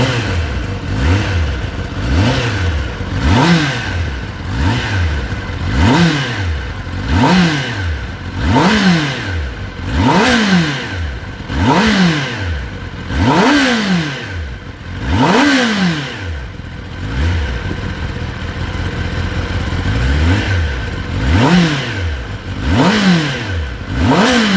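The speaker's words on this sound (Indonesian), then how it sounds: "itu dia Sob, suara dari Kawasaki ZX10R" A Kawasaki ZX-10R sport motorcycle with a four-cylinder engine revs repeatedly, with roughly a dozen sharp throttle blips rising and falling in a steady rhythm, loud and close over a constant idle.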